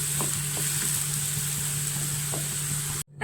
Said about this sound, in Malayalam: നന്നായി ഇളക്കി കൊടുക്കുക. കൂണിലെ വെള്ളമൊക്കെ ഇറങ്ങി വറ്റിപ്പോണം.